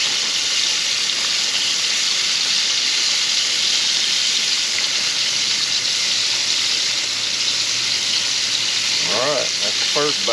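Thin-sliced wild turkey fries in a pan, a loud, dense, unbroken sizzle and crackle close up, with a brief voice-like warble at the very end.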